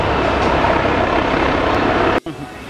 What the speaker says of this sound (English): I think that's a tour chopper.